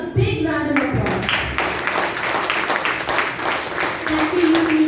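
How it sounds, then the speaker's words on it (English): Clapping rises from an audience at a speech contest meeting, honoring the contest chair, with distinct individual claps in an uneven rhythm and voices talking over the applause. "Please give him a big round of applause."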